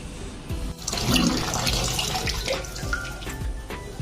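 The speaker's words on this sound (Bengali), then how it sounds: "এবার আমি শাকগুলো ভালো করে ধুয়ে নেব আর ডালটাও ধুয়ে নেব" Jute leaves and lentils being rinsed under a running tap, a steady rushing splash of water throughout with a few small knocks and clatters, close and fairly loud, with no talking.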